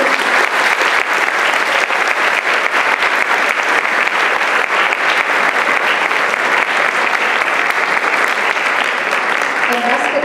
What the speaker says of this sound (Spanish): Un fuerte aplauso para estos alumnos